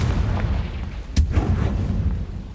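A Confringo fire spell bursts in Hogwarts Legacy, a sharp explosive boom landing just over a second in, over a steady rumble of game background noise.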